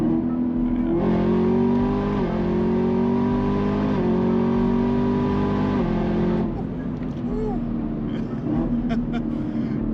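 A Camaro ZL1's powerful engine roars close by, pitch climbing through several gear shifts with brief dips between, then dropping to a steady drone.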